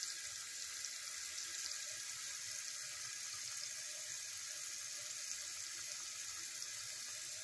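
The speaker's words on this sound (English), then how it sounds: "Water's in there a lot. I'm gonna fill it up almost full" Steady water runs from a tap into a container as it is filled almost full, a continuous even hiss that stays fairly soft and unbroken throughout, with no voices.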